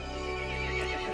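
A horse in Resident Evil Village lets out a loud, close whinny with a rising, wavering pitch, accompanied by faint hoof clip-clops, heard on its own without talk.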